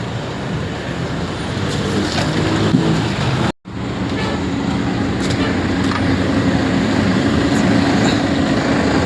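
Cars sit in a traffic jam on a street under construction, a steady roar of idling engines with brief passing swells, continuous and fairly close, broken by a short gap.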